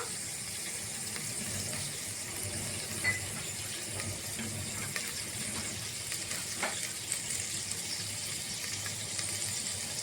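Food frying in a pan, a steady close sizzle with faint scattered ticks and stirring clinks, no voices.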